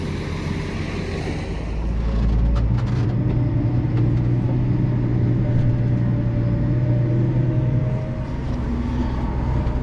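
A Holmer beet harvester grinds through a soft, muddy, snowy field, its engine a loud, close, continuous low rumble that swells slightly midway and then settles, with no voices over it.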